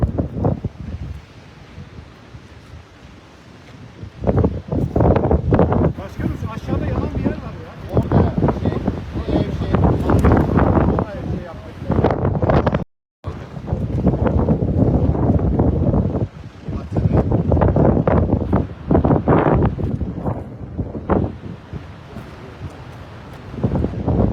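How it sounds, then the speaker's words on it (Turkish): Strong, gusting wind roars through a burning forest in Muğla, Turkey, loud and buffeting against the microphone in surging waves with only brief lulls. "Yoksa yangın daha da aşırı şiddetli rüzgar var. Bu rüzgarda yangının durma şansı yok."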